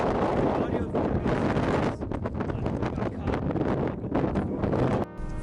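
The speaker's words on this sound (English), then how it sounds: "The wind was too loud, and it was so windy" Strong wind buffets the camera microphone on a hike, a loud continuous roaring rumble with gusty surges throughout.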